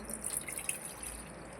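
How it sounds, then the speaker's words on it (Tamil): Water is poured into a pot, making a faint, brief splashing trickle with a few drips. "தண்ணி ஊற்றுவோம்."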